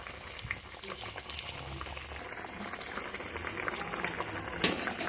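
Ridge gourd and potato curry gravy with chhana kofta bubbling at a boil in a pot, a steady close patter of bursting bubbles with a few sharper pops throughout.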